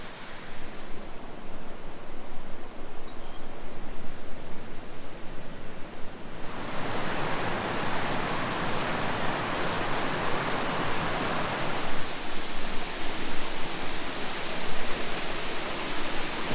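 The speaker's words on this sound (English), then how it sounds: "This is the Raymond Creek Falls in the Snowy River National Park, and they're flowing quite nicely today." Raymond Creek Falls in Snowy River National Park flows strongly, a continuous broad rushing roar of falling water that swells louder for several seconds before settling back.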